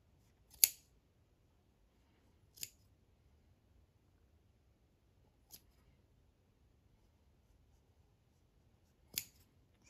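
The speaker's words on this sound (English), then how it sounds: "you need to snip all your loops" Scissors snipping leftover embroidery thread loops on a stitched sampler, four short crisp snips spaced a few seconds apart in an otherwise quiet room.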